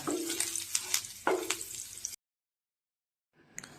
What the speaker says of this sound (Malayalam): അടുത്തതായി അതിലേക്ക് 1 സ്പൂൺ ഇഞ്ചി കൂടി ഇട്ട് ഒന്ന് റോസ്റ്റ് ചെയ്തെടുക്കുക.